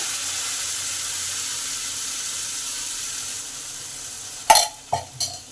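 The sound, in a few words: boiled moong dal sautéing with spices in a pan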